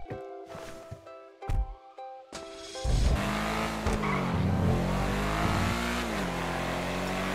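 A Porsche Panamera in GTA starts with clicks and short beeps, then the engine roars up loudly and revs with shifting pitch and some tire noise, close and continuous, with no talk.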